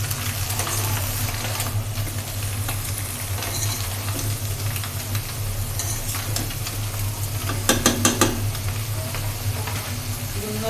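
Sponge gourd fries with scrambled egg in a pan, giving a continuous close sizzle with stirring scrapes and a quick run of spatula taps near the end, no voices.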